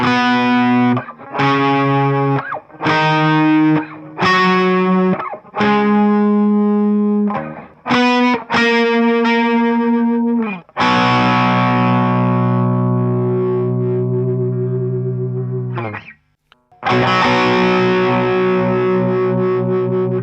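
A distorted electric guitar plays chopped octave chords in a rhythmic pattern, then lets a thick sustained chord ring out, loud and close.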